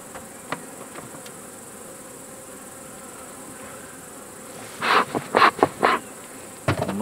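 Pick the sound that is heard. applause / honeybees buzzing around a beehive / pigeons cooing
honeybees buzzing around a beehive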